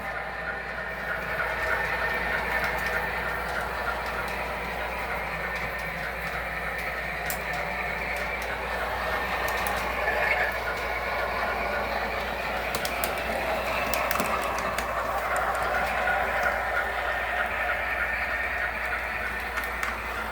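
A model train runs steadily, a continuous rolling hum and clatter of small wheels on track, moderately loud with no voices.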